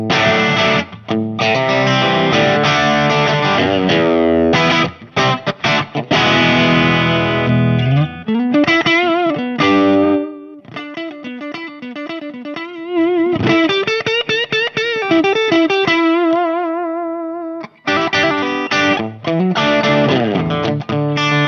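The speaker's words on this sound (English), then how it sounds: "as an overdrive, just on its own, this is a very, very good pedal" Electric guitar played through a Mad Professor Bluebird overdrive/delay pedal, overdrive alone with distortion turned low: loud, sustained crunchy chords and single-note lines with ringing harmonics and brief pauses, no talking.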